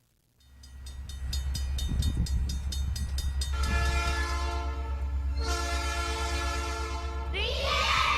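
A radio show intro uses a train sound effect: a deep, rumbling locomotive engine builds up, and repeated loud blasts of a multi-tone train horn ring out over it, with no voices.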